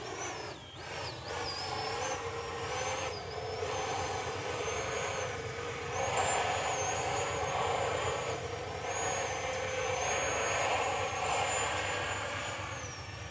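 A Freewing Ares 3D 90mm electric ducted-fan RC jet on an 8S setup flies at a distance, its high, thin whine holding steady and wavering in pitch over a faint outdoor background.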